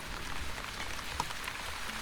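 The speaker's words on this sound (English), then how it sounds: "We have rain." Rain falling in the video game The Wandering Village, a soft, steady hiss of light rainfall with a faint distant tone, quiet and continuous.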